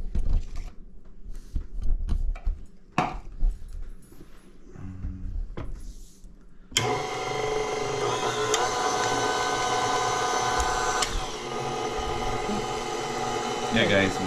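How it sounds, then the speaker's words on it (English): A grinder processing fruit for Guyanese black cake. Light handling knocks come first, then the machine starts abruptly and runs loud and steady with a mechanical whir to the end. "So this is our first batch of fruit, grind fruits."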